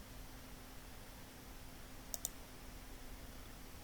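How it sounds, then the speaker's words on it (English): Two quick computer mouse clicks, close together and crisp, from someone working in Microsoft Access, set against a faint steady hum with no talking. "First we click on the relationship report"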